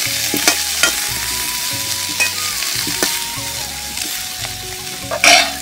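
Kashmiri chilli powder being stirred into radish and dry fish in a hot pan, a steady sizzle with repeated scraping strokes of a spoon throughout, close and fairly loud with no talk.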